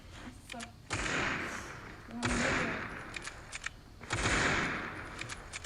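Gunfire rattles through a round of the Critical Ops video game in three loud bursts of rapid shots, separated by brief quieter gaps.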